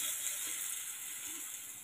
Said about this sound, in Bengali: চলো এরকম করে এক এক করে ধোকাগুলো ভেজে নিই।